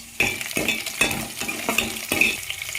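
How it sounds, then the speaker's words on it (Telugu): Onions and green chilies being stirred in a cooking pan, with a spoon scraping and clinking against the metal in several repeated strokes over a soft frying sizzle, close and clear with no talking. "ఆనియన్స్ మిర్చి వేసుకొని కలుపుకోవాలి"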